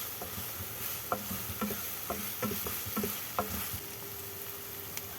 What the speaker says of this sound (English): We will saute it.